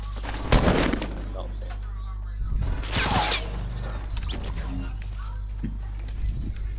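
Gunfire in the video game Fortnite landing a headshot: a few sharp gunshot bursts over a steady game hum, with a player's voice talking over it.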